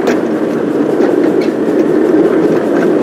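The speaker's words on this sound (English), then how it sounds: "attached my Pullman car to the back of his passenger train." A passenger train with a Pullman car rolls on the Manatee Central Railroad, giving a steady rumble with faint clicking of the wheels, loud and close, with no talking.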